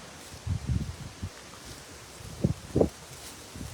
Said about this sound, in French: c'est grand vent d'un coup